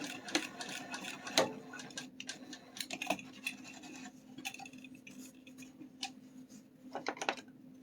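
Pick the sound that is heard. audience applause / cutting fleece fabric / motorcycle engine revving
cutting fleece fabric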